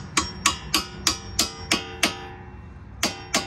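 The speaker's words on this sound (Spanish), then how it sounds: "proceder a darle un golpecito con el martillo para que entre completamente." Sharp hammer taps ring out one after another at a steady pace, a pause, then two more strikes, each with a short metallic ring, driving a shock absorber into a 2008 Honda Pilot.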